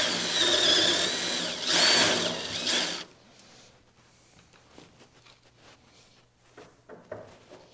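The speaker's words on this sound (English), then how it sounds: "I can just drill me a hole, nice and slow." A power drill bores a hole into a wooden 4x4, its loud, steady whine lasting about three seconds before stopping, followed by quieter handling clicks and knocks.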